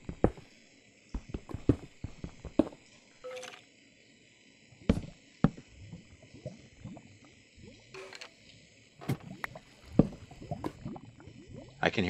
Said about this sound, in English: I can hear lava, and I can hear water.